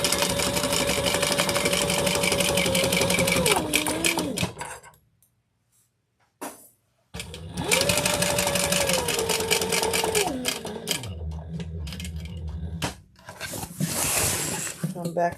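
A sewing machine runs triple stitches along a beach tote, with long steady humming runs that pause, restart and shift pitch as it slows and reverses. A voice talks over parts of it.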